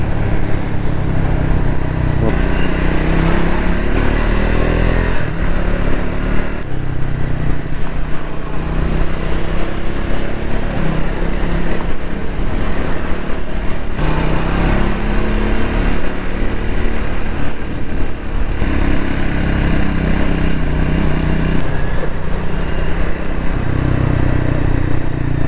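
A Triumph Speed 400 motorcycle ridden after its first service, its engine loud and steady throughout with shifting revs and gear changes, plus heavy wind rush and road noise up close.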